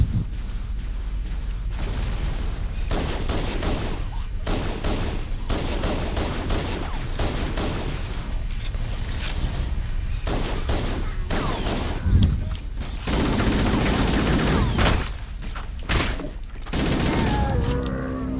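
Sustained assault rifle fire in Halo: Combat Evolved, loud and dense automatic bursts running nearly unbroken with brief pauses and a deeper boom midway, heavy low-end thump throughout.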